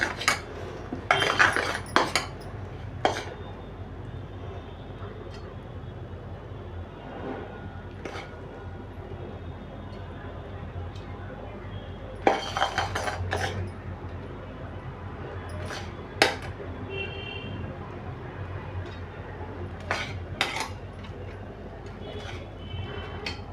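Hot sugar syrup is poured onto a metal plate to make sugar garlands for Gudi Padwa, with sharp metallic clinks and scrapes of utensil on plate in scattered clusters over a quiet background hum.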